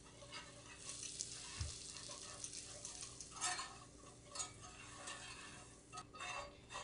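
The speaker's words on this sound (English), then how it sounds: "I'm going to add them 2 at a time and do some whisking." Flour being whisked into a pan for homemade cream of chicken soup, a faint repetitive scraping and rattling of the whisk against the pan with a soft sizzle underneath.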